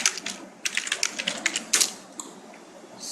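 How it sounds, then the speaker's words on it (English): Fast bursts of keystrokes on a computer keyboard, close and clicky, in uneven runs with short pauses and a final lone tap, no voices. "let me just go to Google and type Google Maps API"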